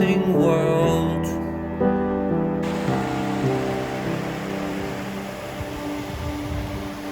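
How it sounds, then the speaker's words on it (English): Rain falls steadily outdoors on a cold cycling trip, a soft, even hiss of drops that follows a few seconds of tonal sound and carries on alone without talk. "It's raining, man!"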